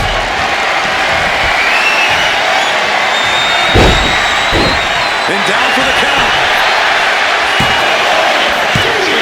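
Wrestling arena crowd at a WWE SmackDown show, a steady roar of cheering and noise under continuous excited play-by-play commentary, with a few sharp thuds and slams from the ring.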